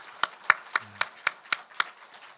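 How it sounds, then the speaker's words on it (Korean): Rhythmic clapping of about nine evenly spaced, crisp claps in a church service, fairly close and moderately loud, with a brief low voice murmur in the middle. "인사할 때 우리 축복과 박수로 받겠습니다"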